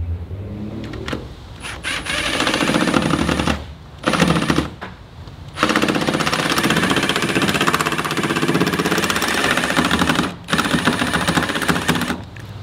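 A power screwdriver drives screws to fix trim pieces onto an aluminium-framed glass greenhouse, giving loud, sustained buzzing whirs broken by short pauses between screws, close by and with no talk.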